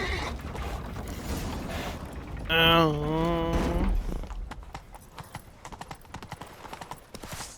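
Horse hooves gallop in a steady clip-clop rhythm in The Witcher 3, with a loud whinny rising in the middle, all under a constant wash of game battle and ambient noise.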